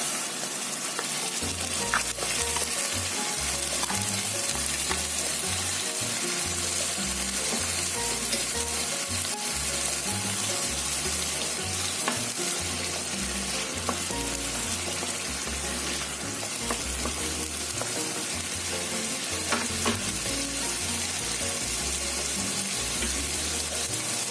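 Onion paste fries steadily in a pan for a lemon chicken dish, a dense, even sizzle with soft bubbling pops that runs without pause and with no voices.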